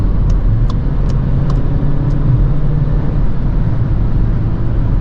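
A Skoda Kamiq 1.5 TSI driven on a German Autobahn, heard from inside as a steady engine drone and road rumble for a few seconds, with a few faint ticks high above the constant noise.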